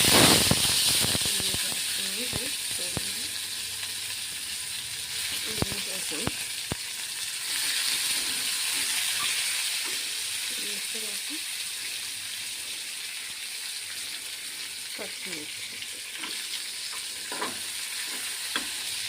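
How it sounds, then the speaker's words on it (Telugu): Cumin, dried red chilies and onions fry in a pan with a constant bright hiss and sizzle, and soft clinks and scrapes of stirring are scattered throughout. The sound is moderate in loudness and continuous. "జీలకర్ర వేగిన తర్వాత ఎండుమిర్చి ఎండిన తర్వాత ఆనియన్స్"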